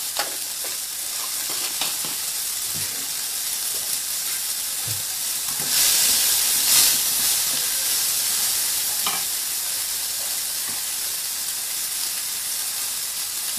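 Spices and a pinch of asafoetida sizzle and spit in hot oil for a spicy chutney, a steady frying hiss that swells louder for a moment when the asafoetida hits the pan, with occasional stirring clinks and no talk.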